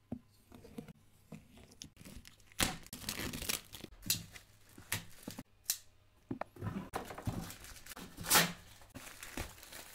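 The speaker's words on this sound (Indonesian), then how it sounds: "Langsung aja kita unboxing." A PEAK Tony Parker VII Taichi Tech basketball shoe box being unboxed: close paper and cardboard tearing and crinkling in irregular bursts, with sharp rips and soft handling rustles between them, no talk.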